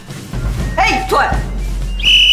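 A temporary school supervisor blows a whistle in several loud chirps, including a rising trill and a final sustained shrill blast, with a low background rumble and brief voices around it.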